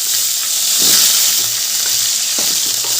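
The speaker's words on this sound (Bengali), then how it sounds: "এবার আলুগুলো ভালো করে ভেজে নেব" Cut potato pieces fry in tempered oil in a pan, making a loud, close, continuous sizzle with occasional soft stirring scrapes.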